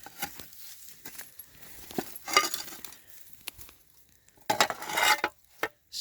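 Dug-up fragments of an old teapot and stove from a lost 1900s munitions plant clink and scrape as they are handled, in a few sharp bursts with quiet gaps between.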